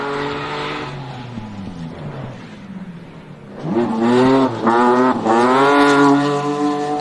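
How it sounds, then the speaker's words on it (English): A rally car, James McDonald's H6, runs a gravel stage at the International Rally of Whangarei in New Zealand, its engine note rising and falling as it approaches, feathers the throttle through a corner, then revs hard and loud right past. "Got a car coming Here now."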